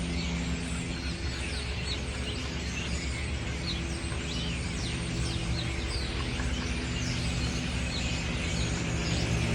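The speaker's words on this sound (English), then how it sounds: "there's a symphony of birds right now" Many birds sing and chirp in a dense, continuous chorus from a building on the Upper West Side of the city, with steady traffic hum underneath and no one speaking.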